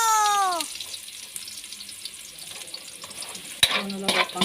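Food being sautéed in a pan for ginisang upo with Argentina corned beef: a soft, steady sizzle and occasional stirring clinks, with a sharp clatter and water-like splashing near the end, no talking.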